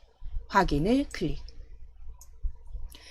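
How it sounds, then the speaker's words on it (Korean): Computer mouse clicks while working in an Excel spreadsheet, a sharp faint tick near the end following a brief stretch of talking, against a quiet low background hum. "새 워크시트로 확인을 클릭."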